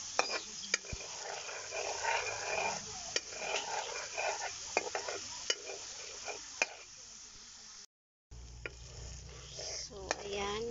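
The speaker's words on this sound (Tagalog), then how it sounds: "So haluin pa, haluin ng para hindi siya masunog." Food being stirred in a pan until golden brown, with repeated scraping and clicking of the utensil and a light sizzle running underneath, while a person talks throughout the stirring.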